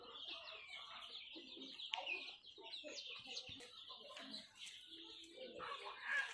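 Hill-breed chicks and chickens on a poultry farm cluck and peep in quick, busy bursts close at hand, with a person speaking among them.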